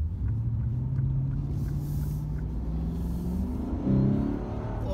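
A Lexus RC-F's V8 engine is heard from inside the car, a steady low rumble that swells as it accelerates, rising in pitch across several gear pulls with a brief louder surge near the end.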